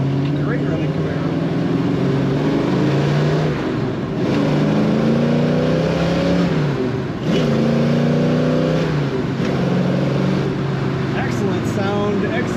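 A 1969 Chevrolet Camaro RS convertible with a 4-speed manual accelerates, its engine climbing through the gears in three or four rising pulls, loud and close, with a voice talking over it.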